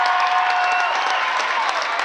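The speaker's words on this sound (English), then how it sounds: "Well-deserved cheer for Andrew Maxwell there." A high school basketball crowd at an Arthur-Lovington Knights versus Salt Fork Storm game cheers and applauds after a made free throw. The sound is a loud, dense, continuous wash of clapping and cheering.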